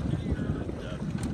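A gust of wind blasts across the microphone during a Sabot sailboat race at La Playa, a steady, loud, low buffeting rumble with a rough, fluttering texture that fills the whole short moment without pause.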